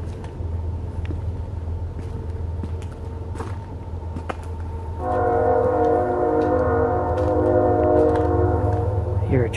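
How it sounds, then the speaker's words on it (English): A train passing near a forest, a low steady rumble of wagons that swells as a loud sustained multi-tone horn blares over it for the last several seconds, close and dominant. "Hear a train."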